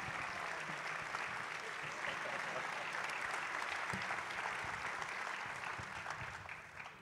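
Sustained audience applause at an Ebertfest 2024 film festival awards presentation, a dense steady wash of many hands clapping that holds for several seconds before beginning to taper off near the end.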